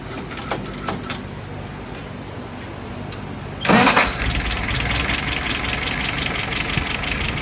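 A 1948 flathead engine cranks over with a few rapid clicks and whirs, catches loudly just past the halfway mark, then settles into a steady, close idle rumble with no talk.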